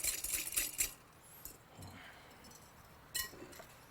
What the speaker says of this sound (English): Next, whisk in red wine vinegar. And you want to whisk until the salt crystals are dissolved.